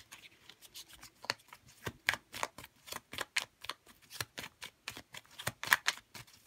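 Oracle-style magic cards are shuffled steadily by hand, a rapid run of crisp riffling snaps and taps in an even rhythm, close and quiet with no talking.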